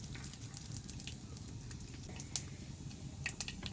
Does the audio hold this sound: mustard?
yes